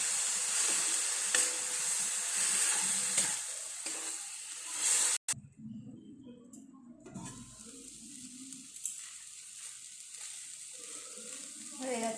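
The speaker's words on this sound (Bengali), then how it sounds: "একটু জল দিয়ে দিচ্ছি।" Water poured into a pan of raw moong dal ghugni sets off a loud, sustained sizzle and hiss that cuts abruptly after several seconds, then drops to a quieter bubbling simmer with faint stirring.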